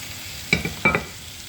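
Mustard seeds, ginger and onion fry in a pan under a low background hiss, with two distinct bursts of spatula stirring and scraping close by.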